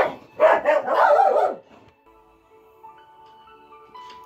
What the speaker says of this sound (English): somebody out outside and got the dogs all excited